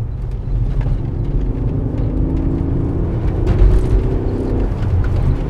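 Alfa Romeo 156 GTA with its Busso engine driven hard, a loud steady low engine drone with tonal whine rising slightly and holding, continuous throughout with no talk.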